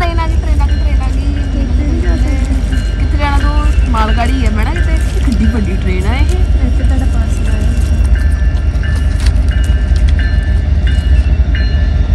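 A train runs along the rails with a steady, loud rumble and clatter throughout, while people talk close by over it.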